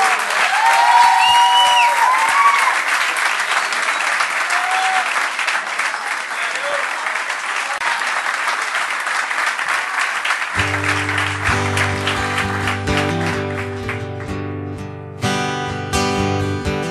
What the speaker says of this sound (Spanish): Un aplauso grande para Garo, más fuerte aún.